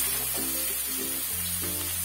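A medium-sized onion frying in leftover oil in a wok, a soft steady sizzle heard close up and fairly quiet, with faint background tones.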